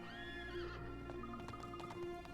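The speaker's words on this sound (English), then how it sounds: "Hey, easy, boy. This horse is certainly spirited." Spirited horse neighing in the video game Professor Layton vs Phoenix Wright, a wavering whinny over a steady game music bed with a few clip-clop hoof hits near the end.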